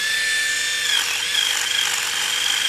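Cheap Chinese-made power tool with a badly wobbling grinding stone, running steadily with a loud, continuous whine and high tonal hum, close up and without talk.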